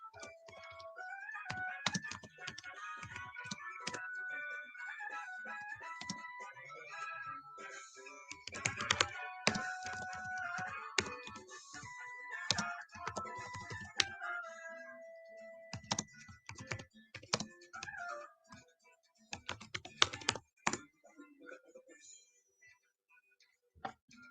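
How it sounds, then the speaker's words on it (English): Quick bursts of clacking keystrokes on a computer keyboard, close and crisp, come in irregular runs with short pauses while game music plays underneath. "I'm also typing out its nature too"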